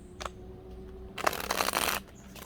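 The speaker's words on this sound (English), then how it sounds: "I'll give this 3 shuffles" A riffling tarot card shuffle, a dense papery flutter lasting about a second, preceded by a few light taps and soft handling noises.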